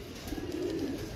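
A brief stretch of low, throaty cooing from close-boned pigeons, a steady soft murmur of several birds nearby.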